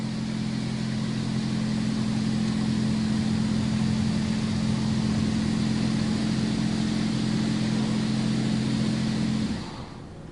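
Automatic car wash machine working over a car, a loud steady low motor hum with a broad rushing wash of spray and brushes, running continuously before cutting off near the end.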